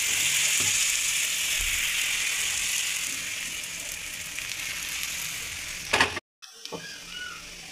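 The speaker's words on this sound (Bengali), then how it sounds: "এইভাবে আমি সবগুলো ভেজে নিচ্ছি" Soru chakli pitha, a traditional Bengali rice pancake, sizzles steadily in a hot pan with a constant close frying hiss; near the end a brief clatter cuts in, followed by a moment of silence.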